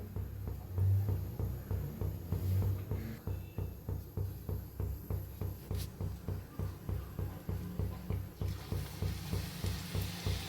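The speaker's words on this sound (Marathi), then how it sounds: "कढाईमध्ये तेल चांगलं तापलंय आता शेव पाडून घेऊया" Sev dough fries in hot oil in a kadhai, giving a steady sizzle under a regular, rhythmic pulsing scrape that continues throughout.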